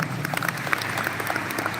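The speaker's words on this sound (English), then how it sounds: "Give yourself a round of applause for that." A crowd claps steadily, a dense patter of applause filling the whole moment without voices.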